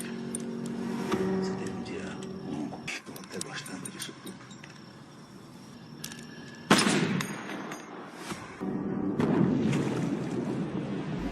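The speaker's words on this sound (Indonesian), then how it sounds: "Miguel menembak anaknya." Gunfire in a sniper film rings out as sharp bursts amid a dramatic soundtrack, with a loud blast-like surge later and a voice narrating over parts of it.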